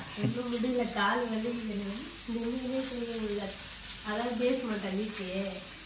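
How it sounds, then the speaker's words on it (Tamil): Three whole Kerala-style green fish frying in a pan give a steady, close sizzle, with a tonal, voice-like sound rising and falling over it. "அப்படியே முழுசாக 3 மீனை வறுத்துருங்க"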